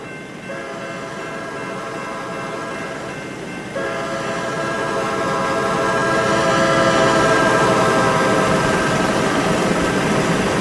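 A train passing a railroad crossing in the RO-Scale Sandbox video game, with a sustained multi-tone horn blaring loudly as the rumbling train noise swells and holds for about ten seconds.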